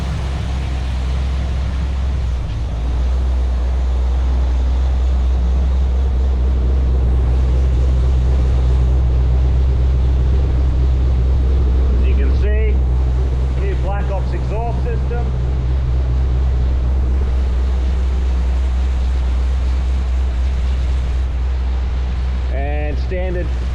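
A Holden VE car with a cam upgrade and new exhaust runs with a steady, loud low drone, and a few brief revs rise above the constant engine tone.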